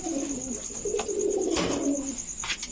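Pakistani Rampuri pigeons in a breeding pair give soft, low cooing calls, a few repeated close-up coos over faint background noise.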